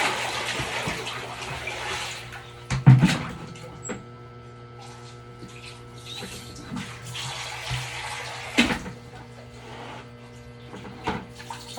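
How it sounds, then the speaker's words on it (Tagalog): Hands are washed under a running tap, with soft, steady water flow broken by a few louder splashes and clatters over a constant low electrical hum, and no talking. "Hand wash lang muna tayo."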